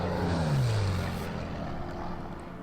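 A fighter plane's propeller drones in the World War II strategy game Order of Battle, Malta campaign: a steady, fairly loud engine hum with a tone that slides downward as the plane passes.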